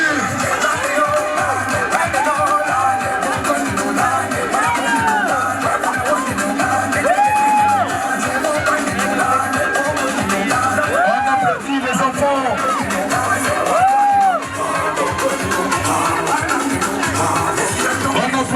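A crowd of children and adults at a summer activities closing event in Fribourg cheers and claps loudly and continuously, with whoops and shouts rising above the steady roar and babbling voices throughout.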